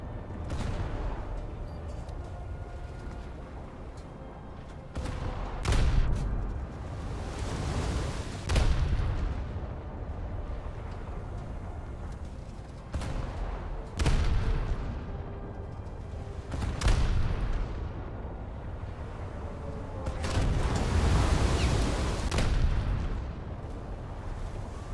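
Heavy cruiser-style turret salvos from British warships in a naval battle game boom out in repeated loud bursts, each blast followed by a rumbling tail, spaced a few seconds apart over a continuous low roar.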